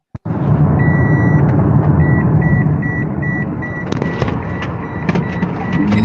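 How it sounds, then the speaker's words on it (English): Car cabin sound carried over a phone call: a steady engine and road rumble with a repeating electronic chime in the background, continuous and moderately loud throughout. "now we can definitely hear your car"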